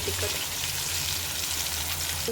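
Chopped tomatoes sizzle hard in a hot pan with chilli powder stirred in, a steady close crackling fry with no voices.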